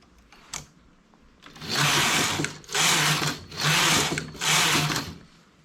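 A knitting machine forms openwork summer stitches with four long, loud sliding rasps as the carriage sweeps back and forth across the needle bed, separated by short pauses and a faint click beforehand.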